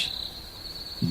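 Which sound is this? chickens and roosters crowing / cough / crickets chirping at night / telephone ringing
crickets chirping at night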